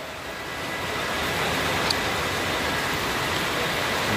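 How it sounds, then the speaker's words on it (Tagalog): Heavy rain at the foot of a mountain, a dense, steady roar that builds slightly in the first second and then holds loud and even with no other clear sounds. "Ulan. oo, sobrang ulan."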